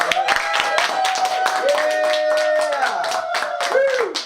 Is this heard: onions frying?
no